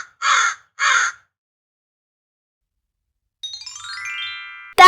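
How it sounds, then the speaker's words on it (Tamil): Two harsh, evenly spaced caws ring out close by, followed after a pause by a soft chiming tone. "காகம், க்ரோ."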